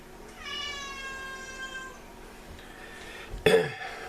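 A cat meows in a long, drawn-out cry, close by in a quiet room where wax is being poured for candle making, followed by a short sharp knock or clatter.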